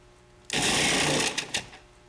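A Cuisinart Classic Series food processor runs for about a second with its small food pusher in place, slicing and shredding small vegetables like carrots, a loud dense whirring burst that cuts off with a couple of short trailing pulses.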